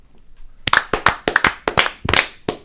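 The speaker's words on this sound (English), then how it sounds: "5 claps." Five sharp hand claps, evenly spaced but slightly quickening, sound close and loud against a quiet background, each a crisp broadband smack with no talking.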